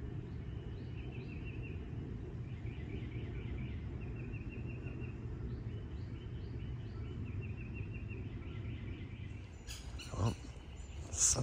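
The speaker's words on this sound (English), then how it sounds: "woken up by bird noises" Birds call in the early morning at a tent campground at Disney's Fort Wilderness Resort, with faint scattered chirps over a steady insect drone and a short closer burst near the end.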